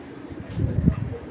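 A blue-eyed silver patti tournament pigeon gives a few low, soft coos close by, swelling midway and peaking near the end of a short moment.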